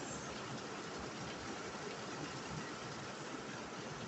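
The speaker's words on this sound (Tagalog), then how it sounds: "Zero visibility, ang lakas ng ulan." Heavy rain pours in Baguio City under zero visibility, a dense, steady broadband hiss that stays loud and unbroken throughout with no voices.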